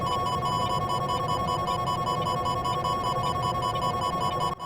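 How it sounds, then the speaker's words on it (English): A steady, rapid radar missile lock warning tone in the flight game VTOL VR, for an AIM-7 or semi-active radar missile, sounds continuously over a low rumbling drone, cutting off abruptly at the end. "This is the sound of an AIM-7 or SAR locking and flying at you."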